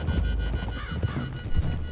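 A horse in Red Dead Redemption 2 trots with repeated clopping hoofbeats, close and loud, with a brief nicker or whinny rising midway through.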